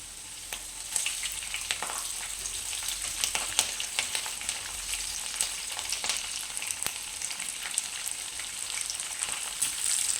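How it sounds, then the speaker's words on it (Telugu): Green chillies crackle and sizzle in hot oil for upma, a steady close frying hiss dotted with small sharp pops throughout. "పచ్చిమిర్చి వేసుకున్నామండి"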